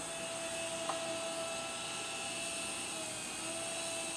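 An HX 721 mini RC helicopter flies indoors with a continuous thin, high-pitched whine from its tiny motor and rotors. The sound stays faint and steady, with a small click near the start.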